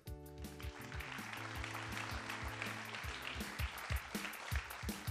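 Audience applause at a local final of a science thesis-presentation contest, a steady dense wash of clapping over sustained music tones, continuing for several seconds before thinning into scattered claps.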